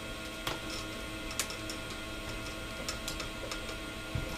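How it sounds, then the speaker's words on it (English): 3D printer running with PLA filament: a soft, continuous mechanical whir broken by scattered faint ticks and clicks at irregular intervals, with no talking. "3D printing. Can't beat it."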